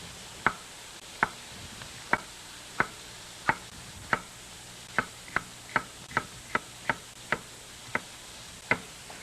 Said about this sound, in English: Very, very thin cut red pepper.